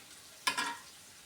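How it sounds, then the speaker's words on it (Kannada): Fish roe sizzles briefly in a hot pan during Coorg-style home cooking: a single soft burst of frying that fades within a fraction of a second, quiet and with no voices. "ನೋಡಿ ಮೀನ್ದು ಮೊಟ್ಟೆ ಉರಿಯೋಕೆ ಇಟ್ಟಿದ್ದೀನಿ."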